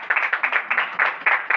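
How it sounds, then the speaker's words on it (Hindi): A small audience at a network-marketing training session claps in quick, uneven bursts, close and fairly loud, with no speech over it. "देखो कोई ये मात्र शक्ति के लिए भी जोरदार ताली होनी चाहिए"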